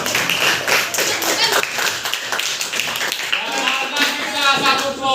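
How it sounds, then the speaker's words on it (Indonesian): Students in a classroom clap for a group, a dense, steady patter of many hands close by, with voices underneath. "tepuk tangan untuk kelompok 3."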